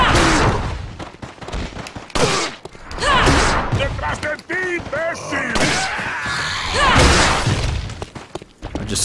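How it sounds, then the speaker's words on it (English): Incendiary grenade going off in Resident Evil 4 amid loud in-game combat, with thuds, crashes and bursts layered among shouting game voices, intense and close, the sounds dense and overlapping. "now it's as good as any is to throw that incendiary grenade"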